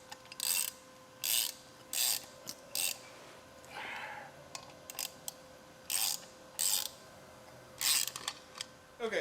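A ratchet wrench tightens bolts on the front air-bag suspension of an OBS truck, with short bursts of rapid clicking repeated at a steady pace, close by, separated by quiet pauses and a brief scraping sound.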